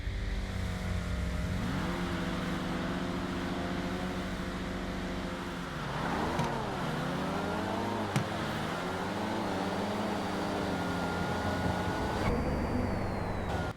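Street race cars in a GTA street outlaws list race at night, including a Fox body and a Z, roar under hard acceleration as engine pitch climbs and drops through gear shifts, loud and continuous with a sharp bang midway.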